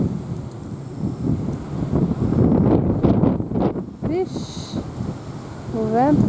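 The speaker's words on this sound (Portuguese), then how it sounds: "O vento tá fogo." Strong coastal wind buffets the microphone in loud, rumbling gusts that rise and fall throughout, with a few faint voices and a brief chirping sound near the end.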